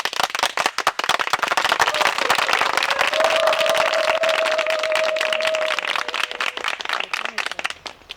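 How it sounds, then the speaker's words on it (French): An audience applauding and cheering in acclamation, dense, loud and sustained clapping with a brief raised voice or whistle partway through, fading slightly toward the end. "je vous attends par acclamation"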